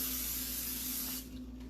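Cooking spray hisses into a loaf pan in one continuous close burst lasting about a second before trailing off quickly.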